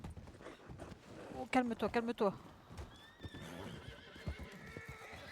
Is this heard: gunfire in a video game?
no